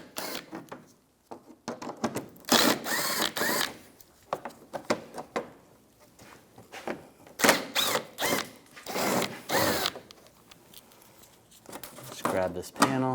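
A 10mm socket on a ratchet backs screws out of a lower front panel on a 2004-2009 Toyota Prius, giving close bursts of rapid ratcheting clicks separated by short pauses.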